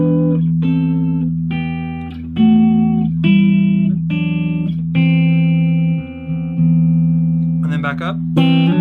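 Electric guitar playing sustained harmony notes over a constant low drone D, with each new pitch entering in a slow stepwise sequence and a quick flurry of higher notes near the close.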